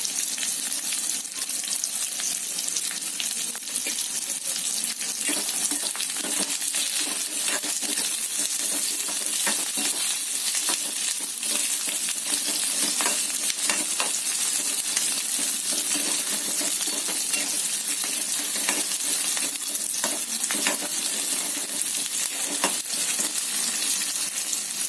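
Onions fry in a pan with a steady, bright sizzling hiss over the whole stretch, broken by occasional light clinks and stirring scrapes, close and without talk.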